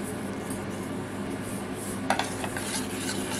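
A spoon stirs melting chocolate and powdered sugar in a pot over gentle heat for crispy Easter nests, with soft scraping and a few sharp clinks against the pot, close and fairly quiet.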